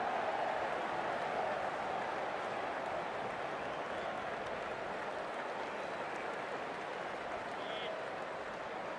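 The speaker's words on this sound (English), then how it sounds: "Please give them a round of applause." A crowd applauds at a T20 World Cup cricket match between West Indies and Zimbabwe, a broad, even wash of distant clapping and stadium noise that keeps going steadily throughout.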